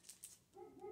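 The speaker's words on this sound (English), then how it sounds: "I know you guys can hear my dog barking in the back." A dog barks in another room, a few short distant yaps at the start, faint and muffled, followed by a steady low hum.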